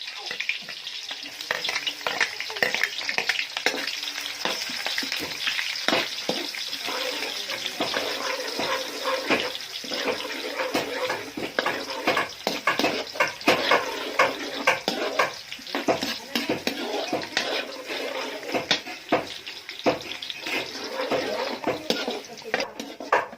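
Garlic and onion frying in a pan for a Bikol Express dish, with loud, continuous spattering and crackling punctuated by sharp pops, and the odd stirring scrape.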